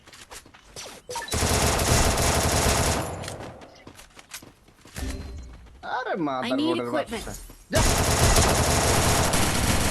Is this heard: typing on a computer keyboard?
no